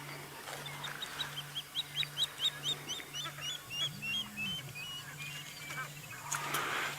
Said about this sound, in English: Got a very noisy blacksmith lapwing.